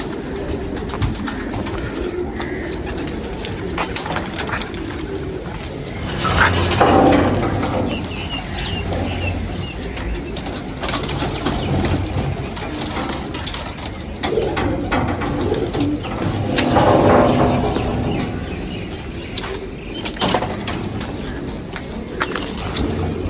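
Sialkoti pigeons cooing in a loft: soft, repeated low coos over a busy background, swelling louder twice, with no talking.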